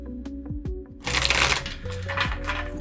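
A tarot card deck being shuffled close up, with a few soft taps and slides first, then a dense, continuous riffling and flapping of cards.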